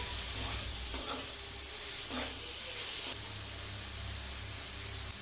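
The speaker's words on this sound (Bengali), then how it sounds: "এখানে টমেটোগুলোকেও ছেড়ে দেব।" Tomatoes go into a pan of onions fried red with a little salt, and a steady quiet sizzle runs throughout with a few faint stirring scrapes.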